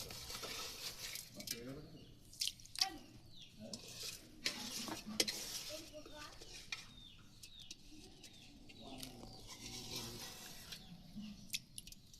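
Rice being stirred into sugar syrup in a pot over a wood-fired clay stove, giving soft scraping and stirring sounds with scattered clinks. Birds coo and chirp in the background throughout.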